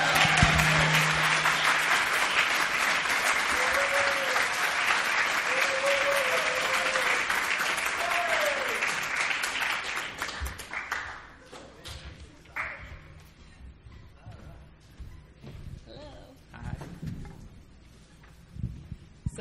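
Sustained crowd applause at a 2014 convention welcoming a male fitness challenge champion on stage, loud and dense for about ten seconds before thinning into scattered claps and quieter room noise.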